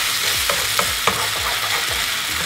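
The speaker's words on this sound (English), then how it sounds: "Give it a stir." Pasta with lots of black pepper is stirred in a hot pan, a continuous close sizzle with a few soft scraping strokes of the spoon, no voices.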